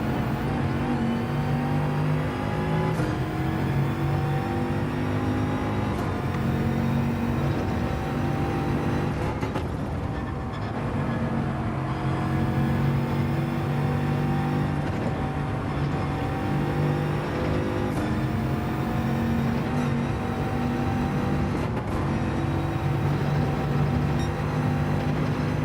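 A McLaren race car engine in Gran Turismo 7 during online lobby racing drones continuously and loudly, rising and falling through gear changes and revs for the whole stretch, with no voices over it.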